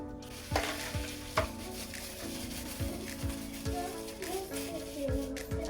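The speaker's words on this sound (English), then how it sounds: "In here, I'll be mixing my caustic soda" Caustic soda solution being stirred for homemade liquid soap, a near, fizzing hiss with a spoon knocking against the container roughly once a second, a voice faint in the background.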